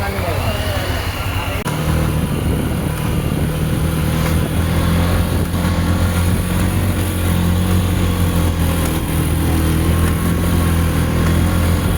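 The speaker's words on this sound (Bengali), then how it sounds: "এইখান থেকে আবার বাইকে চাপা।" Motorcycle engine droning steadily during a ride on a hill road near Parasnath, a close, continuous hum with a sharp jolt early on and voices talking over it.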